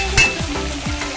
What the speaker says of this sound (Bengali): টমেটো কুচোনো আর নুন হলুদ দিয়ে মাংসটাকে ভালো করে হালকা করে ভেজে নিচ্ছি